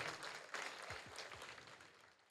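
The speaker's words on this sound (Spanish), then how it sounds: "Denle un fuerte aplauso al Señor," A church congregation claps for the Lord during a Spanish-language sermon, a dense, fairly faint wash of applause that slowly fades, with a voice briefly audible beneath it.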